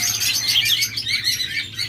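Lovebirds and cockatiels kept in cages at a sale keep up a busy stream of high chirps and tweets, many birds calling at once over a low background hum.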